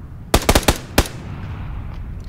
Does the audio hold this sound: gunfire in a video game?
yes